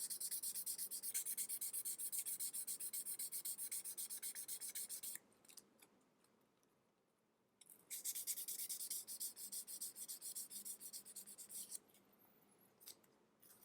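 Rough sandpaper scrubs along the edge of a leather ID tag in fast, rhythmic back-and-forth rasps, close and steady, pausing for a couple of seconds midway before resuming.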